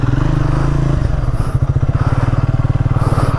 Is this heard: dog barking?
no